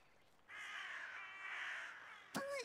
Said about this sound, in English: The crows took me!